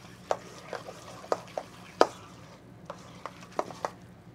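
Guacamole ingredients are mixed in a bowl, giving a series of quiet, irregular taps and soft squishes from the spoon against the bowl, close and faint, with no talking.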